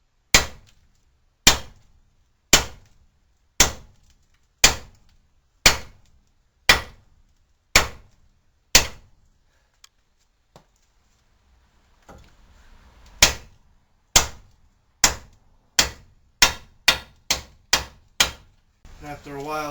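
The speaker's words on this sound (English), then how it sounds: "I find it easier to use a sledge" A sledgehammer strikes a Ford Explorer ball joint over and over, sharp metallic whacks at an even pace, then a quiet pause and a faster burst of blows, loud and close.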